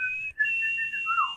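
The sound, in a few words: whistling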